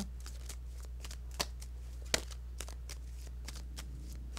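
A deck of playing cards is riffled and shuffled close up in a quick, rapid series of papery flicks and snaps, with a couple of sharper slaps standing out over a low steady hum.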